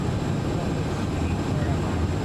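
Boeing 757-200 engines in the X-Plane 11 flight simulator throttle up, giving a steady, loud jet roar with a low rumble that holds constant throughout with no break.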